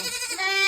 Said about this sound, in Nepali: बाख्राले बोलायो हेर्नु त